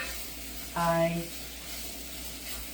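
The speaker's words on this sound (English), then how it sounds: "I'm just sauteing on this lovely new stovetop" Onions and garlic sautéing in coconut oil on a new stovetop, a soft steady sizzle under room noise, with a brief voiced tone breaking in partway through.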